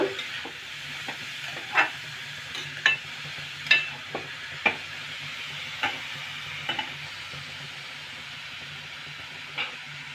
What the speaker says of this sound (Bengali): জিরে গুঁড়ো দিলাম একটু এবার ভালো করে মিশিয়ে নেব